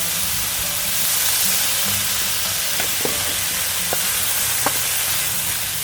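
Egg hitting a hot pan in an outdoor bivvy camp cooking setup with prawn rice, giving a steady loud frying sizzle throughout with a few light clicks of a utensil.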